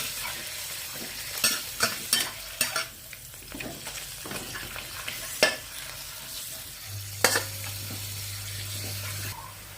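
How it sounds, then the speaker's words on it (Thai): Minced pork stir-fried in oil in a pan, with a continuous close sizzle under repeated scraping strokes of a spatula, irregular and fairly busy, with no voices. "ใส่น้ำมันลงไปค่ะ หมูบด แล้วก็ผัดหมูบดให้สุก"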